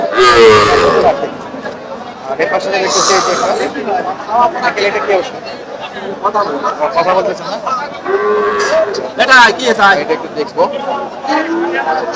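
At a cattle market, a cow moos loudly several times amid a busy outdoor crowd, with people talking and chattering close by throughout.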